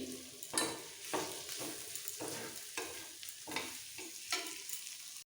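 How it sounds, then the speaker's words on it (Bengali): Masala chicken is stir-fried on a tawa, with a quiet steady sizzle punctuated by rhythmic scraping strokes of a spatula roughly once a second. "এইভাবে চিকেন কষাতে কষাতে অনেকটাই সেদ্ধ হয়ে গেছে পুরোপুরি"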